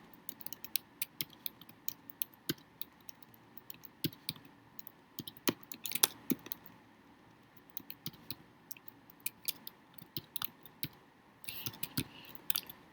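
Quiet, close typing on a computer keyboard while entering SQL data, with irregular bursts of light key clicks separated by short pauses and no speech.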